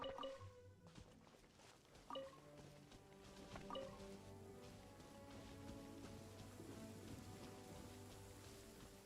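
Rain falls in the video game Genshin Impact as a soft, steady patter of drops and drips on surfaces, faint and continuous, with a few scattered chimes and game tones early on.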